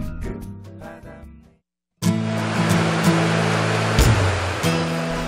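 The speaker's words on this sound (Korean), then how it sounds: "시원한 물소리가 점점 더 가까워집니다." A mountain stream in Jirisan, upper Pagyecheon, rushes and roars steadily and close, broad and hissing, after a brief drop to silence, with background music playing underneath throughout.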